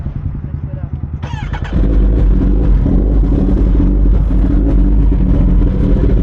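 Yamaha Aerox V3 scooter engine idling with a steady low pulse, then revved hard into a loud, sustained roar that holds to the end.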